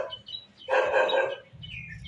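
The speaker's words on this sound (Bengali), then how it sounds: "তোমরা পাখির আওয়াজটা শোনো" Birds chirp under a tree in Siliguri: short, high chirps at the start and end, broken midway by a louder, harsher call.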